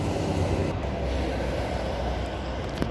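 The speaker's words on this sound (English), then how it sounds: "For the service, now arriving onto platform number 1." A three-car train pulls into the platform at Currambine station, giving a loud, steady rumble of wheels and carriages that fills the whole stretch without a break. No voices are heard.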